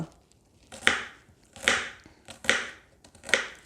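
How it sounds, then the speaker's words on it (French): A knife chops garlic steadily on a cutting board, four evenly spaced crisp strokes, close and clear with nothing else around them. "vous coupez votre ail"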